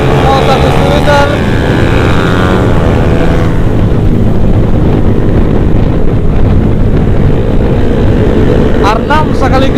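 A supermoto motorcycle engine roars loudly during a night ride alongside a Yamaha R6, with a steady, droning tone, heavy wind buffeting the microphone, and a pitch shift partway through.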